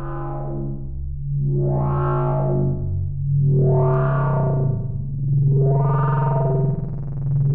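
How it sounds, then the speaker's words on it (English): A modular synthesizer drone patched in VCV Rack, with a sustained low tone and distorted, swelling sweeps that rise and fall in four slow, regular waves, loud and alone. "What a lovely drone we've got now."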